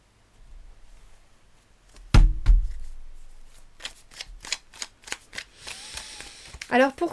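Tarot cards being shuffled for a card reading, a sharp riffle burst followed by a series of quick crisp card snaps and slides, close up, with no talk.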